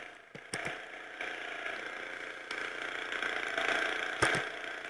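In the video game Happy Wheels, a tractor engine idles with a steady buzzing drone that grows slightly louder over a few seconds, broken by a few sharp clicks and knocks.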